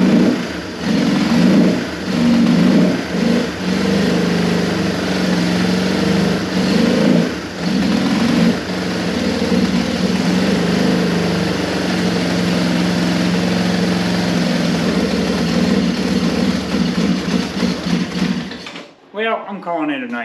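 A Yamaha Moto 4 ATV engine runs close and loud with a steady low drone, laboring hard and idling roughly, before cutting off near the end; a person talks over it.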